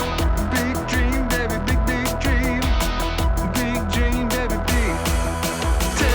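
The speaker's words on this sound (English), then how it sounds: "With the bass over there in the left ear." Bass guitar playing in a full band mix, panned to the left with its sub-bass low end held in the center; steady bass notes under drums and other instruments throughout, no talking.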